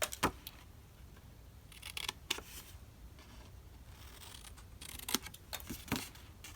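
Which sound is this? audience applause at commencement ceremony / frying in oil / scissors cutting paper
scissors cutting paper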